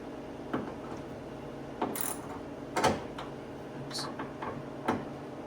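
A ratchet wrench tightens bolts on a Ford Ranger tailgate seal, producing a few faint, separate clicking ratchet bursts and light metallic taps at close range in an otherwise quiet space.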